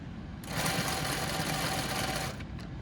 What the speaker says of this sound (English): I am going to stitch over my pins.